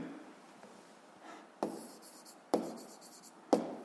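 Pen or chalk writing out a physics solution, soft scratchy strokes with three sharp tapping marks about a second apart, close and quiet in an otherwise still room.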